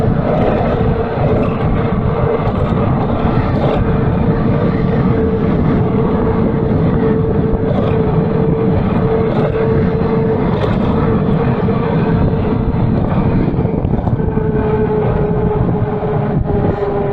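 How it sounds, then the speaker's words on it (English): Heavy wind roars loudly and steadily over the microphone while riding a Jansno X50 v2 electric scooter, a dense low rumble with a faint hum running through it. "I don't even know if you guys can hear me from the wind."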